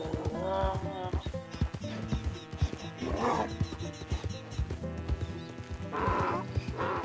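Horse hooves clip-clop steadily during a ride in the video game Red Dead Redemption 2, a rhythmic trot under music and ambient game sound.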